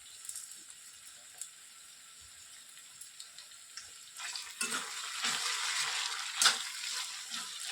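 Fresh curry leaves tossed into frying onions for a coconut ivy gourd fry, a quiet start then a sudden louder spitting sizzle that keeps crackling close by.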